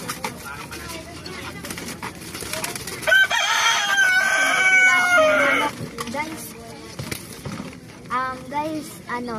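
A rooster crows loudly and close by in one long drawn-out call, with shorter clucks and calls from chickens and pigeons before and after, at feeding time.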